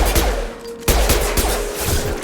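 Gunfire rings out in a Mass Effect 2 firefight against mechs, dense rapid overlapping shots crackling in quick bursts, loud and continuous across the moment with no talk.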